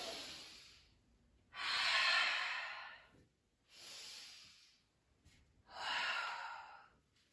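Slow deep breaths during a yoga practice for sleep, three long airy inhales or exhales swelling and fading with quiet pauses between, close and soft with no talking.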